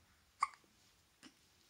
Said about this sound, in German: Schluckauf ist doch da.